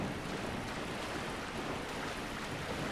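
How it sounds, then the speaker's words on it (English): Rushing water in Dark Souls pours as a constant broad hiss and roar, like a steady stream or waterfall, faint overall but unbroken, with no speech. "This water, this water makes the game really freaking loud."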